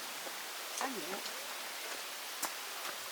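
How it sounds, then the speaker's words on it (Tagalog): Light drizzle on a mountain hike in the Philippines: a steady, soft wash of rain hiss with occasional sharper drop ticks, with people talking over it. "Umuulan ulit. Ambon."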